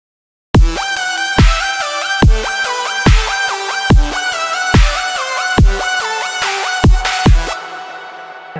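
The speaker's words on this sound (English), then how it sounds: "So with the kick and all the drums, the leads sound something like this." Synth leads with kick and drums in a remake, a loud electronic pattern of bright stepping lead notes over a steady pounding kick, alone with no voices.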